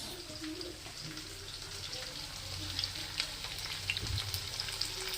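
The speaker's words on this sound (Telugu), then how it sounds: "చికెన్ ఫ్రైడ్ రైస్కి చికెన్ ముక్కలు వేగుతున్నాం" Chicken pieces fry in oil for chicken fried rice, giving a steady close sizzle with occasional stirring clinks and faint birdsong-like coos in the background.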